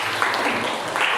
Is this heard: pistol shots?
no